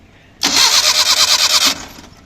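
A Suzuki Mehran car that won't start cranks on its self-starter for just over a second, a loud, close, rhythmic churning that stops without the engine catching.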